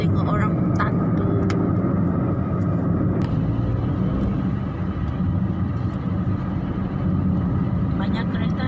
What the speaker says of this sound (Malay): Banyak kereta hari ni.